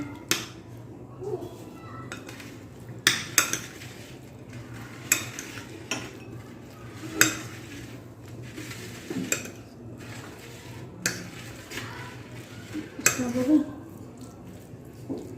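Pizza filling tossed with chili flakes and oregano in a bowl, a spoon scraping and clinking against the bowl in irregular knocks and taps, with some soft background noise between the strokes.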